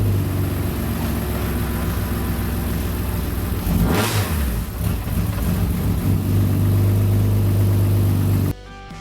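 The engine of a 1999 BMW M3 race car runs loud and close at a rough, deep idle, rising in a brief rev around the middle before settling back, then cutting off abruptly near the end.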